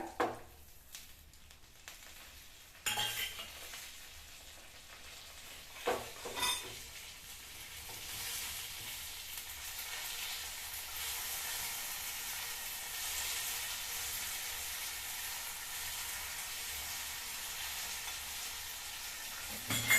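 Dried red chillies, cumin and curry leaves sizzling in hot tempering oil in a pan, a faint steady frying hiss that builds and holds, preceded by a few stirring clinks and scrapes.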